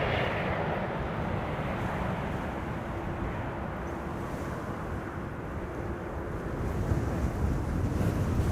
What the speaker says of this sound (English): The wind is still pretty fierce at times.